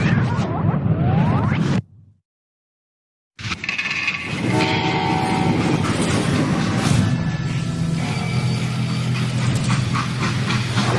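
A train in the video game Call of Juarez: Gunslinger rumbles along with a steady mechanical clatter and hum, broken by a short silent gap early on, then continuing loud and continuous.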